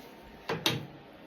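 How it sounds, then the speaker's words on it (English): A bedroom door in a warm home swings shut with two quick, close knocks, the latch clicking in a quiet room. "I will shut the door, keep it nice and warm."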